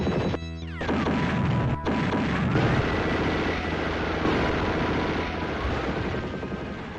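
Explosion and gunfire samples from the Amiga shoot-'em-up NY Warriors: a dense, loud barrage of booming blasts and crashing shots over a steady game soundscape, with no speech.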